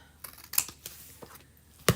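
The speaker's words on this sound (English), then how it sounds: "Let's just cut that apart." Scissors snipping through paper along printed cut lines for a chalk-art Santa craft: several crisp, close cuts at an uneven pace, with faint rustling of the paper between snips.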